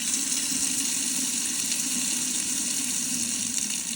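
Hot water runs steadily from a kitchen sink tap, a constant close splashing hiss that holds unbroken throughout with no voices.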